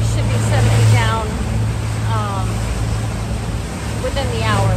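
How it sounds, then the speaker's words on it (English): A boat motoring out of an inlet into rocky ocean waves, with a steady low engine drone and rushing water beneath it while someone talks over it. "we're out in the ocean. We just got out of the inlet. It's a little rocky"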